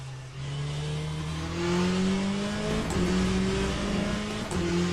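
A Corvette race car in the Le Mans Ultimate racing game accelerates and shifts through gears, its naturally aspirated engine note rising steadily with a few brief upshift dips, moderately loud and heard alone.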